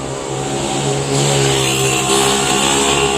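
Motor traffic on a road near a flyover construction site, a steady engine drone with tonal hum swelling as a motorbike passes close, a bus also moving ahead.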